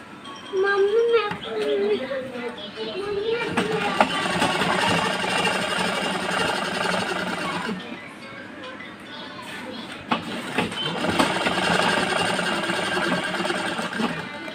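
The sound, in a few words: sewing machine stitching blouse seam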